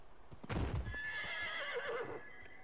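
A horse whinnies in the Dragon Age Inquisition video game, with clip-clopping hooves underneath. The sound is faint and distant, and there is no talking.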